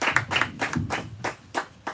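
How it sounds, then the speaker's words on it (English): Scattered applause from a small bookstore audience welcoming author Alejandro Varela at Brookline Booksmith, heard as uneven bursts of clapping with brief gaps, fairly close and moderately loud. "please join me in applause for Alejandro Varela"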